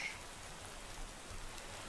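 Rain falls steadily in the Minecraft OceanBlock game, a faint soft hiss of patter with no voices.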